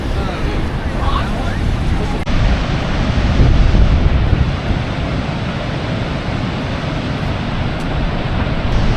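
Niagara Falls roaring in the rain, a loud, constant broadband rush of falling water and spray close by, with buffeting wind and no clear talk over it.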